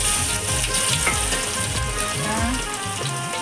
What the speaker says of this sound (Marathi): आता राई टाकते, लसूण टाकते